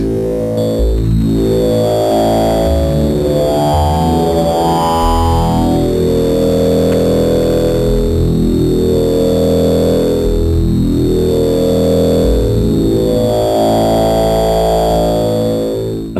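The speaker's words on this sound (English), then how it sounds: "then there's a setting for the bit reduction." A Kodamo EssenceFM synthesizer drone with bit reduction, buzzy and distorted with gritty, crunchy harmonics and slowly sweeping tones, loud and continuous throughout with no talking.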